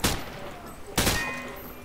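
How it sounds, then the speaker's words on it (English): Two loud bursts of hip-fired gunfire in Call of Duty: Modern Warfare 3, one at the start and another about a second later, each a sharp crack followed by a decaying rattle. "He sprayed bullets all over the damn place."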